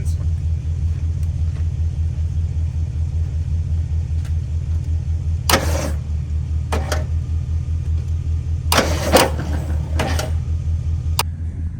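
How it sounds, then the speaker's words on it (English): An old Jeep Wagoneer engine cranks in a garage, a steady rhythmic low churning that runs throughout, with a few brief sharper clanks and bursts on top. "Maybe we can get lucky and crank this thing and make a little noise."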